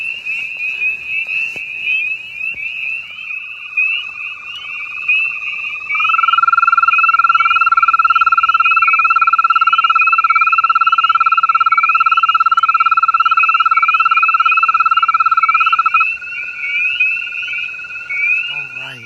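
Frogs or toads calling at a West Virginia breeding pond: overlapping long, steady, high trills drone on for many seconds, one swelling loud and close in the middle, with faint chirps and rustles around them.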